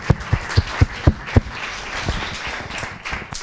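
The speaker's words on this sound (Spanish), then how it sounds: "Muy bien, un aplauso." A conference audience begins applauding: several loud, evenly spaced single claps up front, then a softer, scattered round of clapping that continues to the end.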